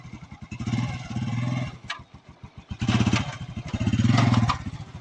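A motorcycle ridden by a learner, its engine thumping close by and revving in several uneven bursts, dropping briefly toward idle between throttle blips.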